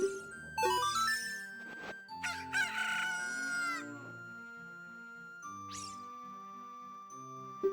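A cucco chicken in Zelda Ocarina of Time crows loudly several times in bright, shrill cock-a-doodle-doo calls over a plinking melodic tune with chiming notes.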